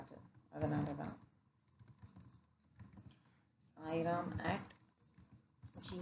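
Typing on a computer keyboard for a school computer-applications practical on invoice formatting, with soft key clicks running under bursts of speech from a nearby voice.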